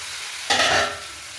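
Tomatoes, coriander and mint hitting a hot pan for a hotel-style egg dum biryani, a sudden loud burst of sizzling frying that swells for a moment, then eases back to a steady hiss.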